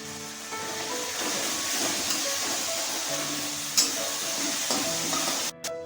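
Ginger, garlic, green chili paste, coriander powder, chili powder and salt frying in a pan: a steady, loud sizzle with occasional stirring scrapes, continuous throughout.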